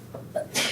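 During a calculus class review, someone gives a single quick sneeze. A short intake of breath comes first, then a brief breathy burst at moderate distance, with no speech.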